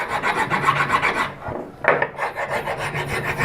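A hand file rasps down the base of a Batman figure prototype in rapid rhythmic back-and-forth strokes, close and clear, with a brief pause midway before the filing resumes.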